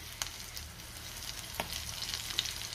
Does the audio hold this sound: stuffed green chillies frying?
yes